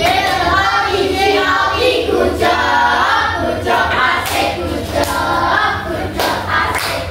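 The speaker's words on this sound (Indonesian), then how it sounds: "Tepuk good job." Children in an Indonesian primary school classroom clap together in a rhythmic 'good job' pattern, loud and close, with crowd-like voices mixed in and repeated sharp clap accents.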